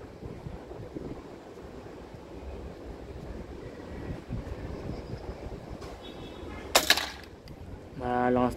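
Strong wind buffets the microphone outdoors at an air rifle shooting range, a continuous rough low rumble with gusts that swell and ease, plus a few brief sharp noises near the end.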